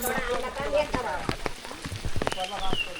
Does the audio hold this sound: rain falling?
yes